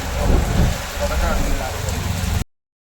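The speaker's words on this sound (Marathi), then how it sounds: "पाऊस पडतो जोरात" Steady, dense rain hissing loudly throughout in Mumbai, with a low rumble beneath, cutting off abruptly before the end.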